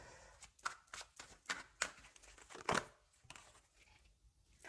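A deck of tarot-style cards is shuffled close by, a quick riffling and flicking of card stock in uneven bursts that fades into softer rustles at the end.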